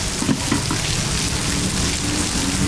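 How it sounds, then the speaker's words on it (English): Steady rain pours down at a gas station, a dense, loud hiss of drops hitting pavement and surfaces. It runs unbroken throughout, with no talking. "It's raining and stuff, bro."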